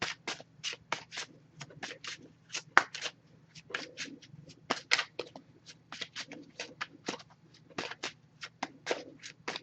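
Oracle cards are shuffled repeatedly by hand, a quick string of crisp riffling and slapping bursts in an uneven rhythm, close and clear.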